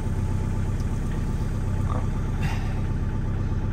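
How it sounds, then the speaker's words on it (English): A car engine idles steadily after a slow, reluctant cold start on a frosty minus-six morning near Yellowstone National Park, with a continuous low, knocking rumble that stays close and even throughout. "One morning, we turn on the engine with Tom."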